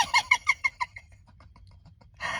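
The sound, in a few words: birds around outdoors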